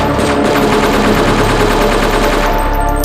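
Sustained, loud automatic fire from an AK-47 rifle, rapid continuous bursts filling the whole stretch with no pauses and no voices.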